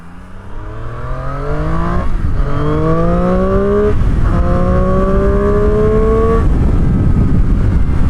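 A loud 2019 Triumph Street Triple R engine revs up through several rising pulls, pitch climbing then dropping as gears shift, close and continuous with wind roar underneath.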